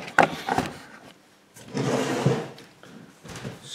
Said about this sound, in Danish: Så vil jeg åbne døren her, så jeg får noget luft ind.